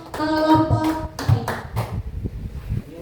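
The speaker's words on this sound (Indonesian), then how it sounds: "Tepuk tangan dulu dong untuk kelompok gembira bersama" Short bursts of group hand clapping in an elementary school classroom, a few uneven rounds of claps over about three seconds, with tonal background sound at the start.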